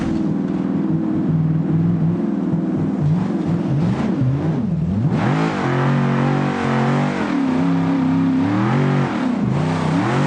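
Loud Ford F-150 engine revving in the BeamNG.drive driving game, pitch climbing and falling in repeated surges with a sharp rise midway, alone and close throughout.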